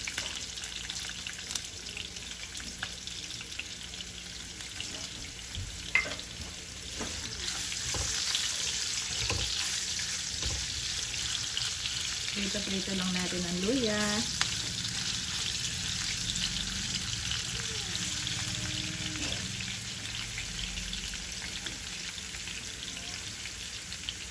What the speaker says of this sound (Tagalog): At dito ko naman i-prito. Unahin ko na itong ating luya.